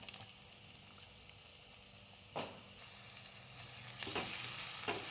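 Onion stir-fried on a high flame for veg hakka noodles, with a constant soft sizzle and a few louder scraping tosses near the end, no voices.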